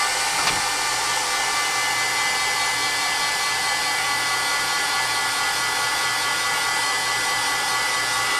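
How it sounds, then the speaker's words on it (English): A heat tool blows steadily and loudly over paint on an altered canvas, a constant whirring hiss with one small knock near the start. "I'm gonna give it a really quick heat dry"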